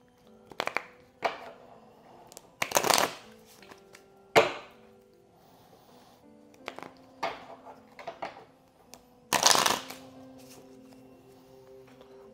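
A deck of tarot cards shuffled by hand nearby, with irregular bursts of riffling and soft slaps, several louder flurries separated by quieter handling; no talking.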